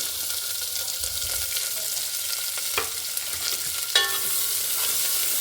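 Sliced onions and mustard seeds frying in a little oil in a pressure cooker hiss in a loud, continuous close sizzle, with a couple of sharp scrapes and clinks from stirring.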